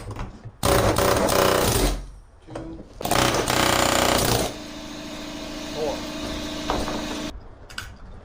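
A power tool grinds the heads off old screws on a fuel sending unit in a hot rod project, loud harsh bursts of about a second each separated by pauses, with lower mechanical noise between.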